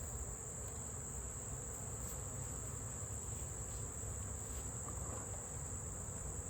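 Honeybees buzz from an opened beehive during a colony inspection, a faint, steady insect hum that continues unbroken with no talking.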